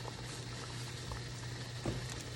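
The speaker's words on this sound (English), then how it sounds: "Now, this will be boiling for about 45 minutes." A pot of water at a steady rolling boil while guava duff cooks, continuous bubbling and gurgling with a low hum underneath, close and fairly quiet, with no talking.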